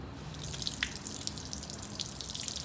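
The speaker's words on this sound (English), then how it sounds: "Just took an old water bottle and I'm gonna just pour and see what happens." Water poured from an old plastic bottle over a grimy stainless steel car exhaust tip, a steady splashing trickle with a few dripping spatters, fairly quiet and with no talk.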